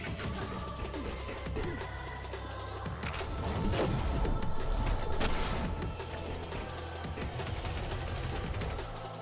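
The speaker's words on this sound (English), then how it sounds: "the thing giving me the problem is these little robots with the machine guns" Small robots fire machine guns in the video game Sprawl, a dense stream of rapid gunfire bursts that swells and fades over steady game noise, loud and continuous.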